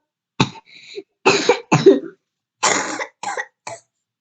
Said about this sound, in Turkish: Neden bu kadar öksürüyoruz acaba?